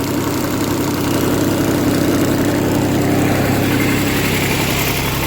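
A spray machine's engine running steadily in a wheat field, a loud, even drone that stays constant throughout with no pauses.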